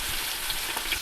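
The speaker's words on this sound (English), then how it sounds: "Searing the meatballs." Meatballs searing in a hot pan give a steady, close sizzle with faint crackles, heard alone without talk over it.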